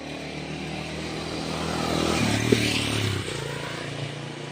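Vehicle traffic passing on a 30-foot highway road in Mouchak, Kaliakoir, Gazipur: a steady outdoor roar swells as a vehicle draws near and passes around the middle, then fades back to a constant broadband hum.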